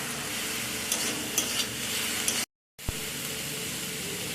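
Bottle gourd stirred in a cooking pan, a steady close sizzle and frying hiss with faint scraping, broken once by a brief moment of silence and a soft thump.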